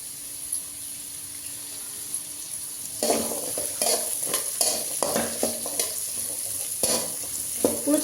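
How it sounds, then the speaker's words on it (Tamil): Onion, garlic and tomatoes sauté in oil in a pan, a steady sizzle with clustered stirring and scraping strokes from about three seconds on, close and fairly loud with no talk. "இப்போ இதிலே வந்து நம்ம தக்காளி போட்டு வதக்கலாம்"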